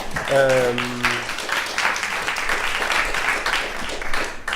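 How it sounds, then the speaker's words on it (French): An audience applauds, a dense wash of clapping that holds steady throughout, with a brief tonal sound near the start. "Applaudissements, s'il vous plaît."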